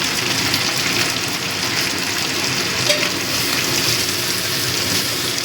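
Ginger-garlic paste fries in a pan for a fish-head and cabbage ghonto, giving a steady, dense sizzle that holds near and fairly loud throughout with no pauses.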